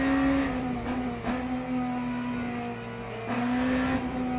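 BMW hypercar in 2026 livery in the Le Mans Ultimate racing game, its engine holding a steady sustained drone with small pitch dips and lifts, close and continuous throughout with no talk.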